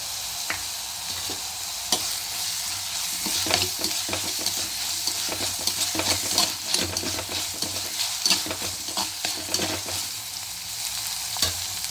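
Onions sautéing with ginger garlic paste in a pan, a constant close sizzle and hiss broken by frequent scraping stirs, with no voices.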